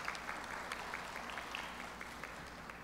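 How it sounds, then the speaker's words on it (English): Faint audience applause for a debate team at a language education conference, brief and steady with distinct claps in a soft crowd wash, with a low hum underneath. "let's give a round of applause to the team."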